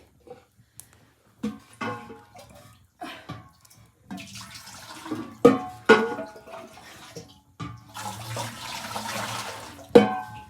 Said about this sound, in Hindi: और पानी मैंने गिरा दिया है,